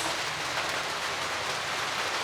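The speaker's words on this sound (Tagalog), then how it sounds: "Umuulan pa rin." Steady, dense rain falls on a mini farm, a continuous even hiss with no breaks or voices.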